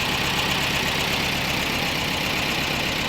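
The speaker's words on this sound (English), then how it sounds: "I'd like this to be idling a lot lower than it is." A VW Mk1 Rabbit pickup engine idles high and steadily, droning continuously with a dense low rumble and constant level, no voices present.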